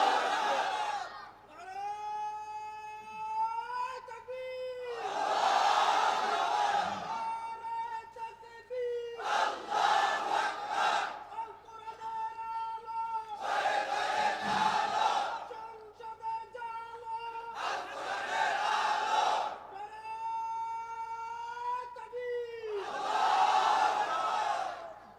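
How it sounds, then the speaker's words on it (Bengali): A large gathering answers a preacher's call with thunderous shouts of takbir in unison, broad crowd roars alternating with a single sustained chanting voice, repeated several times. "এই না কয় তাকবীর, এরকম একটা দেন তো তাকবীর"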